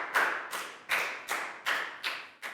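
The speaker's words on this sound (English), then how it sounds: "a big round of applause for everybody doing a great job" Short bursts of clapping in a primary-school classroom ring out at a steady pace, six sharp claps about half a second apart, each fading quickly, with no voices.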